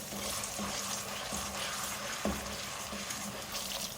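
Onion paste fries and gets stirred in a pot for a chicken malai handi, a steady sizzle broken by periodic scrapes and clinks of the spoon against the metal, close and without talk.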